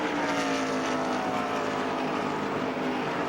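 A NASCAR race car at the 2002 Napa Auto Parts 500 carries its engine through the center of a corner, a loud, dense, steady roar held close for the whole stretch.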